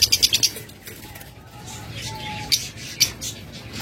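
Pet birds in a cage, a DNA-sexed breeding pair for sale, give several sharp squawks and chirps with bursts of wing flapping, loud and close at the start and again near the end, with a quieter stretch between.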